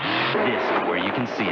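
NASCAR race cars roar past at high speed, their engine notes rising and falling in sweeping pitch as they pass, while a voice speaks over the loud, steady engine sound.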